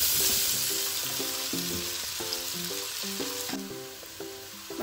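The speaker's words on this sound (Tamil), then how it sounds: "இப்போ எண்ணெய் பட்டரும் சூடாகிட்டு அதோட வெங்காயத்தை" Onions frying in heated oil and butter for Thai chicken give a steady, close sizzling hiss that runs the whole time, with a stepping melodic tune playing underneath.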